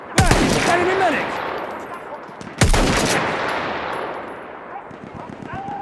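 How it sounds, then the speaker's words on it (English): Machine gun fire in a war video game: two loud, sharp bursts about two and a half seconds apart, each trailing off into a long echoing rumble and battlefield noise. "Machine gun, over there!"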